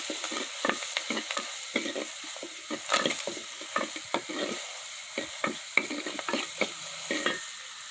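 Tomatoes, green chillies and curry leaves sizzle and crackle in a hot pan for a prawn curry while a utensil stirs and scrapes repeatedly, close up, with no talking.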